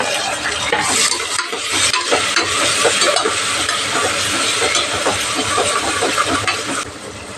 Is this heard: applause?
no